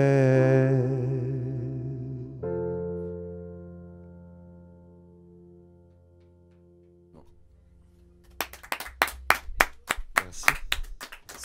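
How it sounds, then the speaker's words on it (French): A live song ends on a held chord that slowly fades. Then a small audience breaks into close, crisp, irregular clapping that grows denser toward the end. "sous vos applaudissements"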